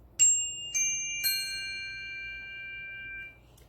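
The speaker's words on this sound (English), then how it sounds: "So I'm going to be using my chimes to do this." Three clear metallic chime strikes in quick succession, each bright tone ringing and overlapping before fading out together into quiet.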